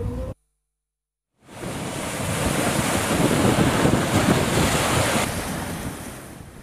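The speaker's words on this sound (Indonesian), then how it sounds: "Gelombang laut menghantam ruas jalan pelabuhan perikanan Mayangan Probolinggo Kamis sore." Large sea waves surge and crash against the road at Mayangan fishing port in Probolinggo on a windy afternoon, a loud continuous roar of surf and wind noise beginning after a brief silence and holding steady to the end.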